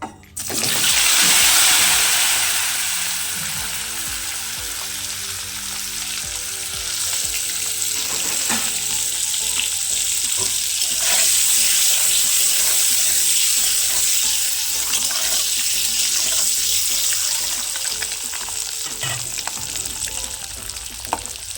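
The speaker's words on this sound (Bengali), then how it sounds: "তেলেতে আমি প্রথমে একটু হলুদ গুঁড়ো আর একটু নুন দেব, দিয়ে আমি ডিমটা ভেজে নেব আগে" An egg fries in hot oil seasoned with turmeric and salt, giving a loud, bright sizzle that flares at the start and crackles steadily throughout, with occasional pan clinks and no talking.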